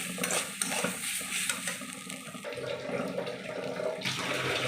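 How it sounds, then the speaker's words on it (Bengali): Pilau ingredients with ginger paste and turmeric being stirred in a cooking pot, giving a continuous wet scraping and sloshing that stays close and steady throughout, with no voices. "সমস্ত কিছু দিয়ে আবার ভালো করে নেড়ে নেবো।"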